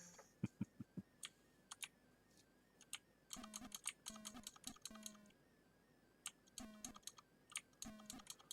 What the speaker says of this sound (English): I have a mechanical keyboard and I sometimes worry that it might be too loud playing.